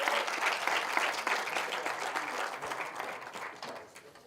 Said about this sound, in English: Let's give him a round of applause once more.